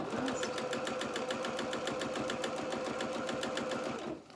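A sewing machine stitches fabric for doll bloomers, a steady close rapid whirring patter that runs without pause for about four seconds before slowing at the end.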